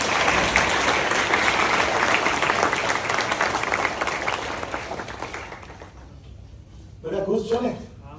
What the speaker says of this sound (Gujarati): તો પહેલા હું બધાને કહીશ કે બધાનો તાળીઓથી વધાવી દઈએ.